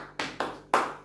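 Children clapping hands in a classroom clapping game: three sharp, separate claps close by, each ringing briefly before the next, with no talk.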